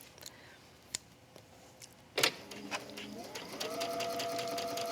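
A sewing machine runs as a ruffle is stitched onto a tree pillow: a few clicks and taps first, then a steady, rising mechanical whir from mid-clip that holds to the end, close and fairly loud.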